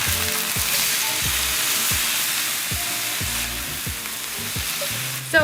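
Large chunks of meat frying in canola oil give off a loud, dense, continuous sizzle, close by, with periodic low knocks and scrapes of stirring throughout. No voices.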